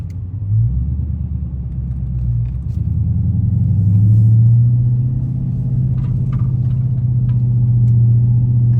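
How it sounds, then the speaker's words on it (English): A Dodge Challenger pulling up nearby, its engine a deep steady rumble that swells slightly as it arrives and then holds a low, even idle-like drone, loud and close with no talk over it. "Challenger right there. He just pulled up and Joe Boy."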